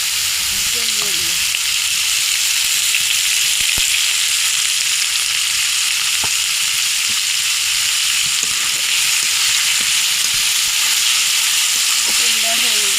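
Onions frying in hot oil in a karahi, a continuous loud crackling sizzle that holds steady, with a few soft clicks and scrapes of stirring.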